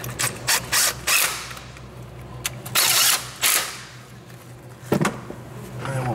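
Studs are run into a Toyota Tundra 5.7 engine with a ratcheting tool, giving several short bursts of fast mechanical clicking separated by pauses, close and fairly loud.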